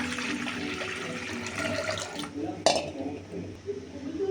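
Water pours steadily over a bowl of rajma beans for cooking, a continuous splashing rush broken by a sharp clink of a vessel partway through.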